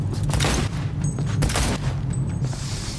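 Gunfire in the video game Cyberpunk 2077, several sharp bursts and booming shots in quick irregular succession, loud and close, with game effects between them and no talking.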